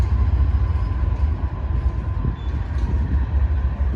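An RJ Corman freight train led by several locomotives rolls past nearby, giving a steady heavy low rumble that holds loud and even throughout.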